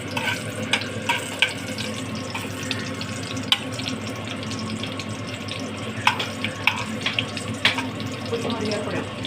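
Sun-dried chillies fry in hot oil in a pan for a chutney tempering, a continuous close sizzle broken by frequent sharp crackles and pops, with no speech.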